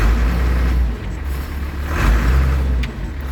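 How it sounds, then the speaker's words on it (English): Allis Chalmers 200 tractor engine revving under throttle, a steady loud mechanical drone that swells and eases, close by with no talking. "It's got a very responsive engine to it."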